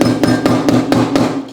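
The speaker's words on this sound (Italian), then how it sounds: "Andiamo ad applicare la toppa il più dritto possibile e con un martelletto batto leggermente" A small hammer taps a glued wooden patch into an antique wooden furniture piece from the 1800s: about six light, evenly spaced, close knocks in a steady rhythm, with no voices.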